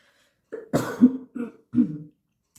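A woman coughs several times in a quick cluster, close and fairly clear, each short harsh burst separated by brief pauses in an otherwise quiet room.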